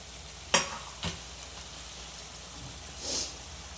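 Jeera rice being stir-fried for paneer fried rice: a couple of sharp spatula scrapes in the pan and a short sizzling swish later, faint over a quiet background hiss.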